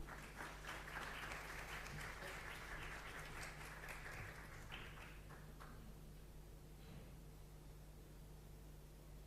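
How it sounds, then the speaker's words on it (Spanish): An audience applauds a speaker being welcomed to the podium at an education presentation, a faint roomy clapping that fades out halfway, then quiet hum with a voice briefly heard. "invitamos entonces a este podio a la doctora Edwards, a quien recibimos con un cálido aplauso"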